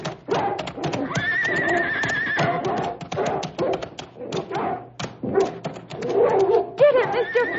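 A dog attacks a man, growling and barking in rough bursts amid scuffling and pained cries, with voices and struggle mixed throughout.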